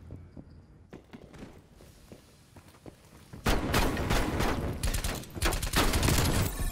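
Gunfire in the video game Call of Duty Cold War: light footsteps and scattered clicks at first, then a dense burst of loud, rapid shots and impacts that continues to the end.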